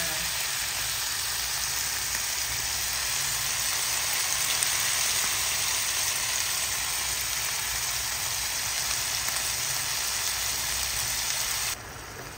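Tenderized beef sizzles loudly in a pan with garlic, onion and ginger for adobo. The hiss is dense and continuous and stays close, then drops abruptly near the end. No one speaks.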